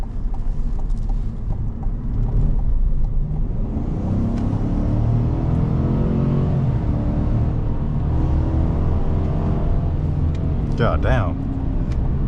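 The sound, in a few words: 2026 Chevrolet Silverado truck accelerating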